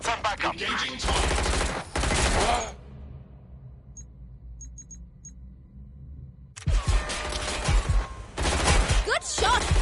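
Gunfire in Watch Dogs Legion, loud dense bursts of rapid shots at the start and again near the end, separated by a quiet stretch with faint beeps.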